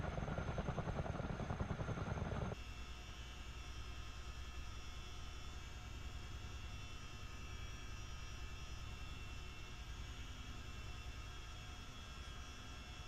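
CH-47D Chinook tandem-rotor helicopter taxiing in a flight simulator, a steady, loud droning rotor and turbine hum that drops slightly in level after the first couple of seconds and then holds constant throughout.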